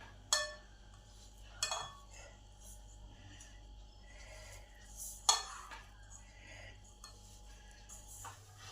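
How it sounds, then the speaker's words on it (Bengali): Grated coconut and jaggery are stirred together in a pan over a medium-heat gas flame, with a few sharp metal utensil scrapes and clinks standing out against a low steady hum. "গুড়টাকে নারকেলের সঙ্গে ভালো করে মিশিয়ে নেব"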